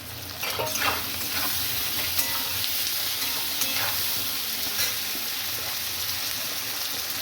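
Chopped tomatoes dropped into a hot frying pan set up a steady, close sizzle of frying, broken by soft stirring scrapes, with no voices.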